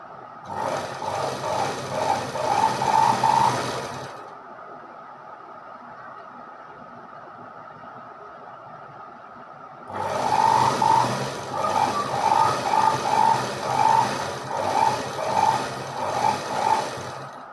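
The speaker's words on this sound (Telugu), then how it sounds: "మళ్ళీ ఇప్పుడు టాప్ స్టిచ్ వేసుకోవాలి." A sewing machine stitches fabric during top-stitching, giving two bursts of rapid, rhythmic mechanical clatter separated by a few seconds of quiet.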